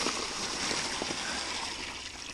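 Water being dipped out of a trommel tub, a faint watery sloshing and trickling with a few soft splashes over a steady background hiss.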